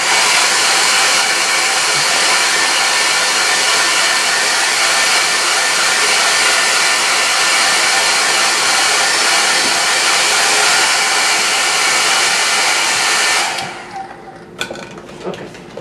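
A hair dryer drying a watercolor painting of a winter river scene, a loud, steady, close blowing roar that holds constant for about thirteen seconds, then cuts off, leaving a few faint clicks and handling noises.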